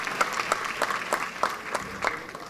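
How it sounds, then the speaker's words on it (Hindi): A crowd at a village sanitation campaign launch event applauds the gram sevaks, sarpanches and villagers, producing a steady, moderately distant patter of many hands with a few sharper swells. "एक बार जोरदार तालियां हम बजाते हैं"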